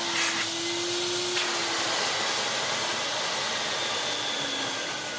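A 1990s Vax Rapide 5150 vacuum cleaner set up for dry use runs steadily close by, a loud whooshing motor roar with a faint whine that shifts slightly in pitch.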